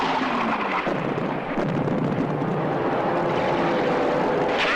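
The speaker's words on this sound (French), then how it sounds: "le débarquement allié en Sicile commence par une violente offensive aérienne" Dense, continuous rumble of aircraft and explosions during a violent aerial offensive over Sicily in July 1943, a steady loud roar with rising engine drones and muffled blasts, no voices.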